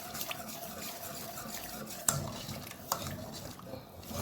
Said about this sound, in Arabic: اقعد اقلب فيه كده اهو